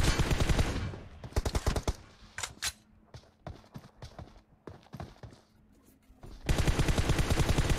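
Gunfire in the battle-royale shooter Free Fire during a team deathmatch: loud rapid automatic bursts open and close the stretch, with scattered single shots and quieter gaps in between.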